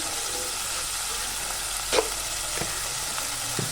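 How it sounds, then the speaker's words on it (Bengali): A spice paste of cumin powder, salt and sugar sizzles steadily in a pan while being sautéed for a vegetarian jackfruit curry, with a few soft clinks of stirring over the continuous frying hiss. "দিয়ে আমি এবার ভালো করে মশলাটা কষিয়ে নেব"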